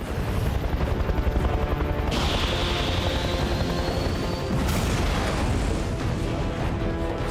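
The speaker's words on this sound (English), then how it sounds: "Target is now an MH-53 helicopter." An MH-53 military helicopter's rotor thumps loudly in a fast, steady chop, close by, with a rising whine partway through.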